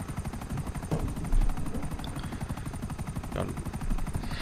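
A helicopter in GTA 5 Online during a Doomsday Heist mission, its rotor blades chopping in a fast, loud, steady rhythm with a few sharp clanks and bursts over the din.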